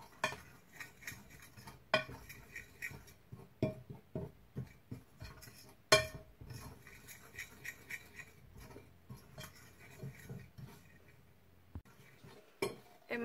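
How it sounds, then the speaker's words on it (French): Utensil stirring pancake batter with flour, sugar and baking powder in a bowl, close and quiet, with irregular clinks and scrapes against the bowl's sides. "Je vais bien mélanger."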